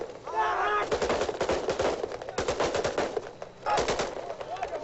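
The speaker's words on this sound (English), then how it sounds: "young men celebrated the restoration of peace in their city by firing off their weapons" Celebratory gunfire in Kuwait City after its 1991 liberation: dense, loud bursts of automatic weapons fire crackle continuously, with voices shouting and cheering at the start and again near the end.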